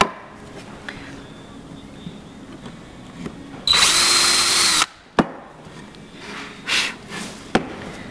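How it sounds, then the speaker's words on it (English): A power drill bores partway into wood for a homemade upcycled cone thread stand, one loud steady whir lasting about a second before stopping, followed by small knocks and handling clatter. "I just drill down enough so that I can seat it really well."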